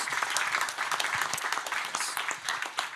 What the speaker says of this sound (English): Big applause for Motorskins.